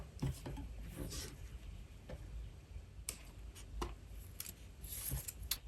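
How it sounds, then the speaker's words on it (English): A craft knife cuts a chunk out of mirrored card, producing a series of sharp, close ticks and short scoring scrapes at an uneven pace over faint background noise. "I'm just gonna get my cutting knife and cut that chunk out"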